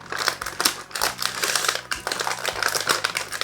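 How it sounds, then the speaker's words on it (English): Stiff plastic blister packaging crinkling and crackling as a GI Joe Classified Zandar action figure is pulled free, close, loud irregular bursts of snaps and rustles with no talking. "Listen to all that crinkling."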